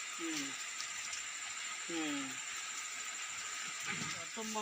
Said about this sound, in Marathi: पाऊस इलो